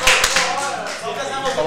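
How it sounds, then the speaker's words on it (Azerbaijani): Clapping from a small group of people during a comedy scene, a steady ragged patter of claps lasting throughout, with voices mixed in. "Alqışlar!"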